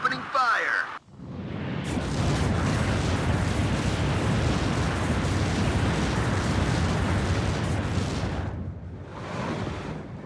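Weapon fire and explosions from units in the real-time strategy game WARNO, with a sustained, rumbling barrage of booms and blasts that fades near the end. A voice speaks briefly at the start.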